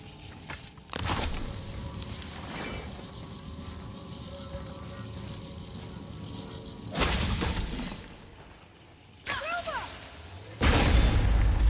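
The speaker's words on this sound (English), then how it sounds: "I will never get tired of shattering things with this." Loud crashing bursts from objects shattering in the God of War video game, several separate breaks spread across the clip, with low rumbling game ambience and a brief voice-like sweep between them.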